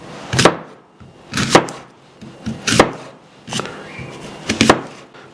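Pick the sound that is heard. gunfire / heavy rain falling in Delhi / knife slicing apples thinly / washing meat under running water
knife slicing apples thinly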